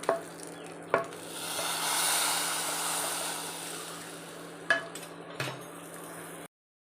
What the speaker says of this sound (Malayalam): താളിപ്പ് നമുക്ക് ഒഴിച്ചു കൊടുക്കാം